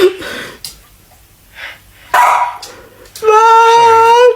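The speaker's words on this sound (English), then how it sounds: "The dog's starting." A dog gives a few short barks and yips in close range, separated by gaps, ending in a longer whining howl.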